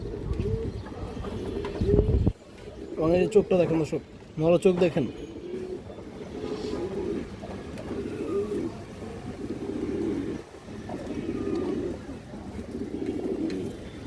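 Pigeons coo repeatedly at a farm selling high-quality breeds, their low calls close and overlapping while someone talks over them for most of the stretch.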